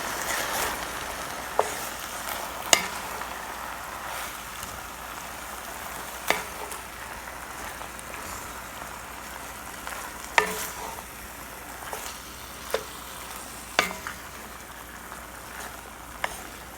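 Vegetables fry and are stirred in a Le Creuset round wide Dutch oven, giving a steady, even sizzle with occasional sharp clicks and knocks of a utensil against the pot.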